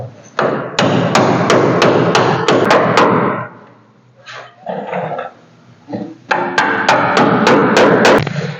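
A hammer drives a wood chisel between car body panels in a workshop, loud sharp metallic strikes in rapid bursts of about ten blows, a pause with a dog barking, then another quick burst of strikes.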